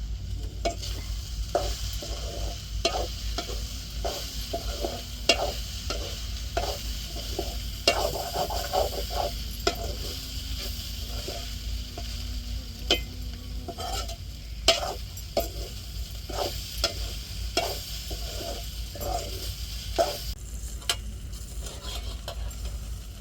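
Okra (ladies' finger) frying in a pan, a steady sizzle with repeated scraping stirs and clicks of a spoon against the pan over about twenty seconds, close and moderately loud, with no voices.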